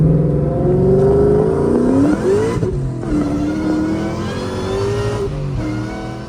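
A Ford Mustang SVT Terminator Cobra V8 revs loudly and up close, its pitch climbing in sweeps, dipping briefly, then rising again before easing off, with no voices.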